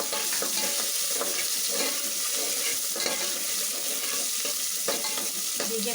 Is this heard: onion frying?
yes